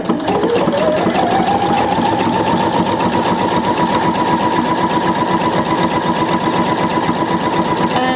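A Pfaff 720 sewing machine stitches a buttonhole, its motor running steadily with a rapid needle clatter that rises in pitch as it speeds up at the start, then holds loud, close and continuous without talk.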